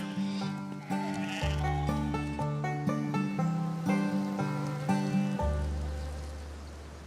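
Many sheep and goats bleat over one another in a constant overlapping chorus, close and moderately loud, with steady background noise like light rain.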